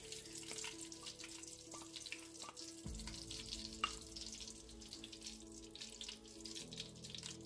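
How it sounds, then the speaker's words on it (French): Red oil sizzling and crackling in a hot saucepan, a quiet steady frying hiss with a few small pops, no talking. "j'ai mon huile rouge que je vais mettre ici dans la casserole qui est déjà chaude"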